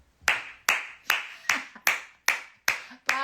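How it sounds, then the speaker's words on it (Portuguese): Sharp, evenly spaced hand claps ring out one by one, about eight crisp beats in a steady rhythm, fairly close and alone, with a brief vocal sound near the end. "Palmas, palmas."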